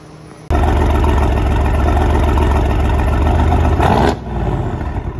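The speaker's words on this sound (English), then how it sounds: "Now back on the dyno, giving it a custom live tune." A Mercedes GLC63s with custom dump pipes and intakes revs hard on a dyno during a live ECU tune, a loud sustained engine roar that suddenly drops away near the end into a lower, rumbling idle.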